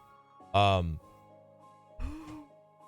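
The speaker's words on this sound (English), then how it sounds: "I'm like yawning like a motherfucker" A person yawns twice up close, first a long drawn-out voiced yawn, then after a pause a shorter, softer yawn that fades away.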